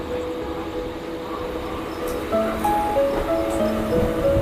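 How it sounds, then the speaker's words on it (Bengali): A MEMU local train pulls slowly out of a station on the Kolkata to Jhargram route, with a steady low rumble and rolling wheel noise that grows a little louder, accompanied by squealing tonal whines from the motors. "বেরিয়ে যাচ্ছি আমরা, সিগন্যাল দিয়ে দিয়েছে, ট্রেনের হালকা হালকা যাচ্ছে।"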